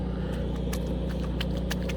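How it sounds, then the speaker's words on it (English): A standby generator runs steadily in the background during a power outage on a wet, rainy day, giving a continuous low rumbling drone with faint intermittent clicks on top. "That noise you hear in the background is our standby generator because we lost electric this morning."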